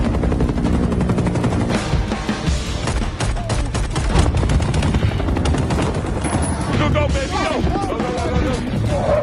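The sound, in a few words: helicopter firing on people, gunfire shootout in film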